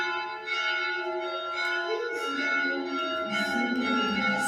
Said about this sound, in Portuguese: Sino da missa, avisando que daqui meia hora tem missa.